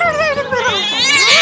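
A cat meows in a long, drawn-out, rising and falling wail, loud and close, with a second whining call near the end.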